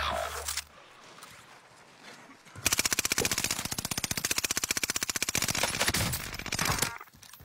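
In a Call of Duty match, a long burst of rapid automatic gunfire rattles close and loud after a quieter stretch, then stops abruptly.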